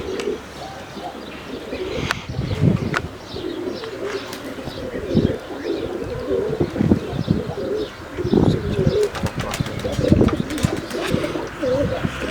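Domestic tumbler pigeons coo steadily in a loft, soft repeated low coos overlapping from several birds at close range, with occasional chirps and a brief flutter of wings.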